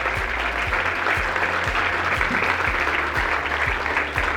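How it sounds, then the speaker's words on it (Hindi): Steady, dense applause from an audience at a results celebration for exam toppers, clapping for the parents; loud and continuous throughout with no break and no voices on top. "Big round of applause for all the parents."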